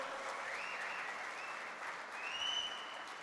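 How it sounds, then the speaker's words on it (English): A crowd at a union youth conference gives a sustained round of clapping after a speech, with dense, even applause that stays strong throughout and lifts slightly near the end. "give some more claps"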